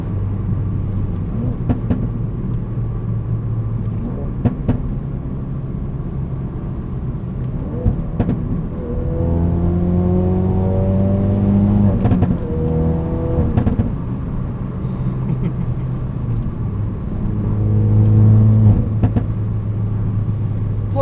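A 2016 Ford Focus RS hot hatch, a 350 hp all-wheel-drive car running on premium fuel, drones from inside the cabin on a morning commute, with the engine rising through several loud, rumbling revs as it accelerates.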